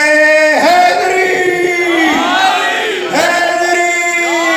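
A large crowd at a religious celebration in Multan roars a slogan in unison, loud sustained massed voices repeating in two long swells with a brief gap between them.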